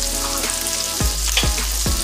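Minced garlic fries alongside shiitake mushrooms in a hot pan, giving a loud, close, continuous sizzle with a few stirring scrapes, and nobody speaking.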